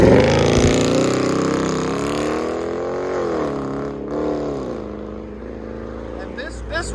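A straight-piped 2021 Dodge Charger R/T with a 5.7-liter HEMI V8 and 5-inch tips gives a loud, deep, steady exhaust rumble with gentle rises and falls in pitch, heard close up throughout.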